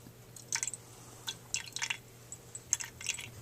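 Vinegar poured and measured out into a container at a classroom lab bench, heard as soft, scattered drips and small liquid splashes, faint and close, with no talking.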